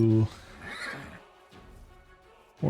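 Horse neighing in the fantasy role-playing game Pathfinder: Wrath of the Righteous, a short loud whinny at the start followed by quieter game sounds and a brief voice, with another loud burst at the end.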